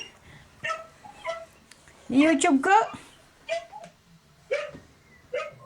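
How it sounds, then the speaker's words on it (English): Guard dogs in the Philippines barking in short scattered yaps and yips, fairly close, mixed with people talking and a burst of louder voices in the middle. "We have some very good guard dogs in the Philippines."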